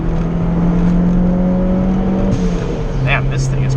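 A Mitsubishi Evo 3 fitted with a big turbo and running ethanol accelerates hard at full throttle on the street, a steady droning engine note with rising whine heard from inside the car, with people talking excitedly over it.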